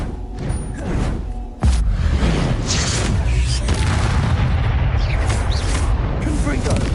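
A heavy, booming Depulso spell impact from the video game Hogwarts Legacy slams in sharply after a brief quieter lead-in, then rumbles on loud and continuous, with rolling blasts and debris-like crashes close up.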